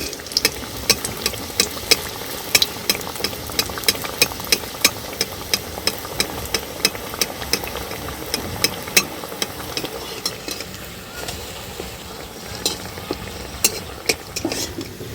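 Small chicken snack balls fry in hot oil, a close continuous sizzle broken by frequent sharp clicks and taps of a utensil against the pan, with no talking.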